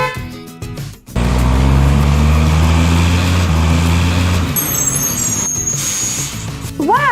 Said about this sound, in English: Wow! Another garbage truck!